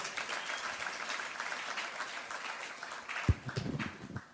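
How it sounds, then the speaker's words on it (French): A crowd of young Congolese applauds an archbishop steadily at moderate volume, a dense patter of many hands clapping, with a sharp thump near the end. "Est-ce qu'on peut le manifester par nos applaudissements, s'il vous plaît?"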